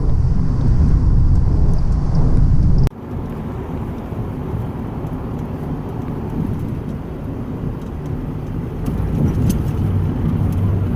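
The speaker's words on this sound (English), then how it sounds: "This is the last drive home, end of the day, through the new tunnel" Steady road rumble from inside a car driving home through Seattle's new two-lane road tunnel, with a sudden drop in level near the start as the cabin sound changes, then a continuous low drone with no talk.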